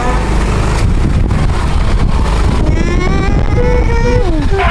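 Steady engine drone and rushing wind noise from a moving motorbike, loud and continuous, with some tonal music-like sounds emerging in the latter half.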